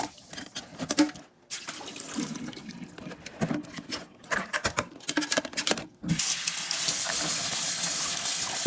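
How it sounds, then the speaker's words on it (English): Beans or peas are rinsed in a kitchen under running tap water over a bowl, with splashing and rubbing in bursts that settle into a steady close stream toward the end. "I'll rinse over a bowl to ensure all residual sodium is gone."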